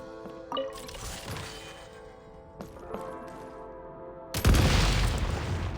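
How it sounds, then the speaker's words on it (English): Explosives detonated by gunfire in Genshin Impact's Shadow Realm go off as a single loud, close boom near the end, after a few lighter knocks and impacts. "Shoot the explosives to detonate them and clear the path."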